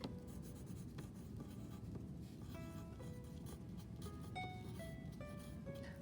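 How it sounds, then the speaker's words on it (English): Pencil scratching out a name along the top of a sheet of paper in a second-grade classroom, close and steady with short quick strokes and brief pauses, no one talking. "So I'm going to put my name and my number where I set at the top of my paper."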